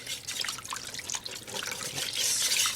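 Vegetable broth from a 32-ounce carton pours steadily into a pot with a roux, a close, continuous liquid splash and trickle that grows fuller toward the end.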